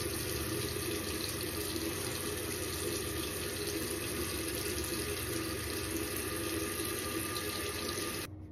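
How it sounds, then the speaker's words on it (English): Tap water runs in a steady, loud, continuous rush into a sink while a face is washed with cleanser, then cuts off abruptly at the end. "I'm gonna be washing my face with my cleanser"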